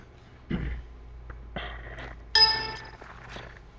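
A computer alert tone sounds when a file extraction fails on a Windows system, a few chiming dings and clinks spaced over a few seconds against a low steady hum, with no voices.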